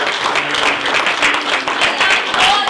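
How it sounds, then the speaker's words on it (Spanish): A Spanish-speaking church congregation breaks into loud, close applause, a dense, steady patter of many hands with a few voices calling out over it. "Dan un fuerte aplauso a nuestro Dios."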